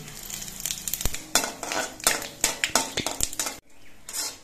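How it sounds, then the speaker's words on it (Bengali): Bay leaves, dried red chillies and whole cumin seeds frying in mustard oil for a village-style pumpkin curry, a loud crackling sizzle broken by sharp spatula knocks and scrapes against the pan. "এবার এই তেলের মধ্যে দিচ্ছি দুটো তেজপাতা, দুটো শুকনো লঙ্কা আর অল্প করে একটু গোটা জিরে।"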